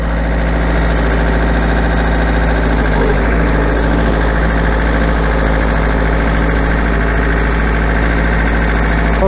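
A tractor engine running steadily in second gear, a loud continuous low drone with constant vibration and a knocking diesel texture throughout, close by and alone with no talk.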